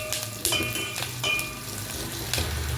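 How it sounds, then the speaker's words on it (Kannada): Onions fry in a pan for radish sambar, a soft steady sizzle with a few clinks and stirring scrapes, close and moderately quiet. "ಇಷ್ಟು ಟ್ರಾನ್ಸ್ಪರೆಂಟಾಗಿ ಫ್ರೈ ಆದರೆ ಸಾಕು ನೀರುಳ್ಳಿ"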